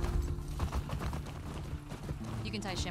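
Horse hooves clip-clopping in the video game The Last of Us Part II, a steady walking rhythm of light thuds running under continuous talking, moderately close.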